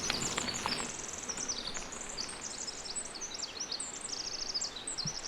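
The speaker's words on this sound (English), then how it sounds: "I had to stop because these birds sound amazing. That's a nice morning song." Birds sing their morning song beside a Bay Area mountain-bike trail: faint, high, rapid chirps and trills repeat through the whole stretch over a soft, steady outdoor hiss.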